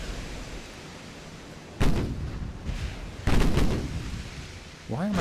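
Naval guns firing in Ultimate Admiral: Dreadnoughts during a battlecruiser versus battleship engagement, with two loud booming salvos followed by rumbling under steady background noise.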